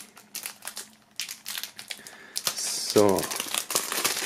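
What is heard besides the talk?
unwrapping plastic film from a CD box set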